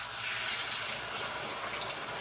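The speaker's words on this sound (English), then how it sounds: "So I'm actually gonna just pour them straight in here." Beaten eggs poured into a hot pan on medium heat, a broad steady sizzle and hiss lasting about two seconds, close and alone without talk.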